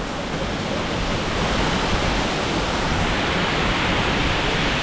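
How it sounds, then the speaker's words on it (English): Leke Leke waterfall in the Bali jungle pours in a loud, steady roar of falling water, a dense unbroken wash with no voices. "Beautiful waterfall."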